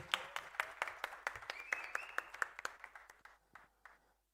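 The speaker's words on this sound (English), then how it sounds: "Another round of applause" A debate audience gives a round of applause for the Deputy Prime Minister: sparse, distinct hand claps from a small crowd in a quiet hall, fairly faint, with the rhythm thinning out as the clapping dies away over four seconds.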